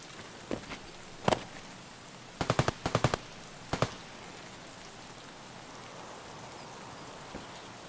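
Steady rain hisses in the background in the video game Escape from Tarkov on the Woods map. Bursts of sharp gunfire cut through it: scattered single shots and a couple of rapid clusters, with no talking.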